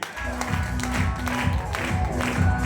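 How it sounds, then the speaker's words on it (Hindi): An audience claps together at a business plan presentation in Khariar Road, Odisha, a steady, fairly loud wash of applause mixed with a low tonal hum that runs through the whole stretch. "ऐसे प्लान के लिए मैं चाहूंगा शानदार ताली।"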